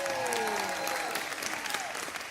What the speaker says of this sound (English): Oh, I got a round of applause.